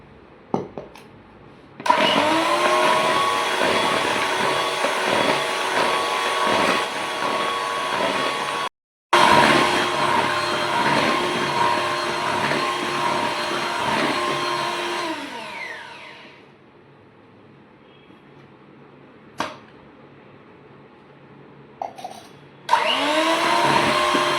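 An electric hand mixer beats chocolate sponge cake batter as powdered sugar goes in, a loud whirring motor drone in long bursts with a brief stop, then quieter scraping and knocks before it starts again.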